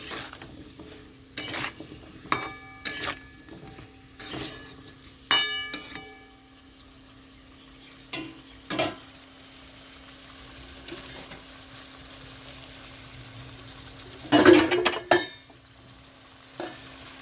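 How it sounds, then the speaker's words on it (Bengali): Hot water poured into a pan of sizzling taro and catla fish curry, giving a burst of hiss and bubbling late on, after intermittent stirring clatter and gentle frying sizzle in a quiet kitchen. "এটা কষানোর জন্য একটু গরম জল দিয়ে দিচ্ছি।"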